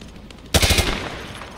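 A short, loud burst of rapid automatic gunfire from the Call of Duty Modern Warfare 2 Remastered training level, several quick shots in a row followed by a brief echoing tail.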